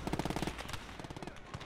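Rapid bursts of gunfire rattle in quick succession from a Pak 38 50 mm anti-tank gun in a World War II video game set at Carentan, fairly faint and followed by scattered shots.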